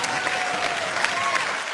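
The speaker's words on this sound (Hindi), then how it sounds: "इनके लिए भी जोरदार तालियां।" Loud studio audience applause fills the room on a comedy talk show, a dense, continuous wash of clapping that holds steady throughout.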